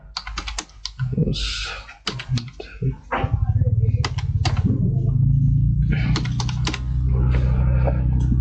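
A bank account number being entered on a computer keyboard, with quick bursts of crisp, close key clicks and pauses between groups, over a low steady hum.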